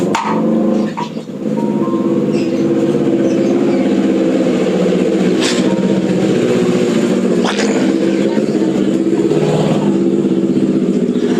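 A motorcycle engine revs loudly and steadily close by, a continuous throaty drone holding for about eleven seconds with a brief dip near the start.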